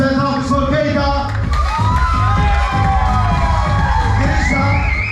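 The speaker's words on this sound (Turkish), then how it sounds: "Applause, applaudissements, alkış for Keita." A resort hotel audience in Alanya cheers and whoops loudly throughout for a contestant at a Miss Paradiso pageant game, the children's shouts and crowd babble forming a dense, continuous roar.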